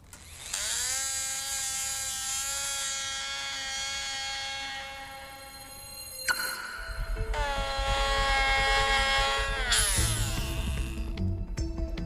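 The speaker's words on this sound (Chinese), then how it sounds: "前面要你把那个软组织和肋骨上剔开，就是为了让这个锯子方便" An electric bone saw cuts through ribs during a forensic autopsy, giving a steady, close, high-pitched mechanical whine that runs for several seconds, breaks off briefly, then resumes with a heavier, rougher tone.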